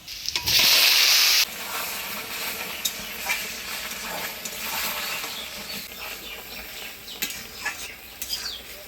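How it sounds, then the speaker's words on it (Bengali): Crushed garlic hitting hot oil for tempering a Bengali lafa shak curry, a loud burst of sizzling that settles into a softer, continuous frying crackle with occasional stirring clinks. "তেল গরম হয়ে গেছে, এবার ফোড়নে দিব থেতো করা রসুন"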